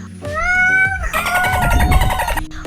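Two close, loud cat meows, a clear drawn-out cry followed by a rougher, more strained one, with a short pause between them.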